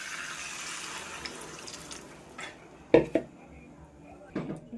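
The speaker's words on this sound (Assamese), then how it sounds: "এতিয়া মই ভাজি পানী দি দিম" Water splashes into a hot pan of frying vegetables seasoned with ginger and cumin, giving a hissing wash that fades, then a few sharp clinks of utensils on metal. A voice talks quietly in the background.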